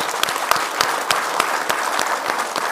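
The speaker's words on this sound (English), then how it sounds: "we can give her applause." Audience applause for an archivist at a talk, an even patter of many hands clapping throughout, with a few sharper individual claps standing out near the front.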